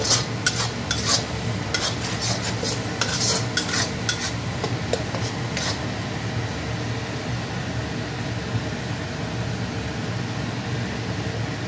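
Ground spice paste sizzles and fries in a hot wok (kadai) while a utensil stirs it in scraping bursts, a steady close frying hiss running underneath throughout.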